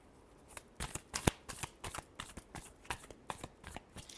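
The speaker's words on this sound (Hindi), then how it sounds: "Last shuffle." Tarot cards are shuffled up close in a rapid series of crisp riffling flutters and soft slaps, fairly quiet and with no talking over them.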